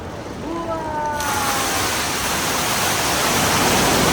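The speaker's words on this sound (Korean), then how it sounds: "15분 되면 여기서 폭포가 떨어지는데 우리 맞으면 안 되는데" After a brief voice, a roaring waterfall in Singapore, heard from a boat, surges in and pours loud and steady, a broad rushing wash of water.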